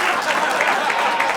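Loud, dense applause from a comedy club crowd during a stand-up set, a continuous close wash of many hands clapping with a faint crowd murmur.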